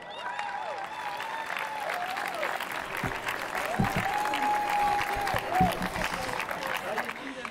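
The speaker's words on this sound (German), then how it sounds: "Großen Applaus für Richterin Karin Haag" Audience applause for a judge introduced at a public talk, with steady clapping throughout, mixed with crowd murmur and some voices, moderately loud.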